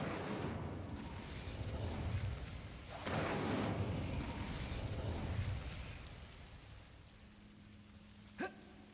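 The Incendio fire spell in Hogwarts Legacy gives a sustained, roaring burst of flame with surging swells over a dense game background, ending in a short sharp pop.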